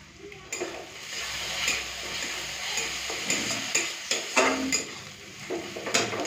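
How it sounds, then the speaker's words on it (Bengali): Onion paste with ginger and garlic paste fries in a pan, a soft continuous sizzle punctuated by a series of sharp spatula scrapes and taps against the metal. "আদা রসুন পেঁয়াজ খুব ভালো মতো ভাজা হয়ে গেছে"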